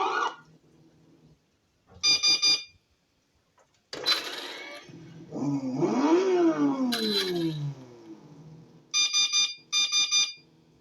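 A toy car's electronic horn and sound effects play as bursts of bright, beeping electronic tones, mixed with a sweeping synthetic engine or siren sound, separated by short silences.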